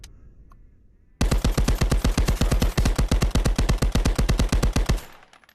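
An MP40 submachine gun in a VR shooting game fires its full magazine in one long burst, a rapid, evenly spaced string of loud gunshots lasting several seconds, then cutting off abruptly after a quiet start.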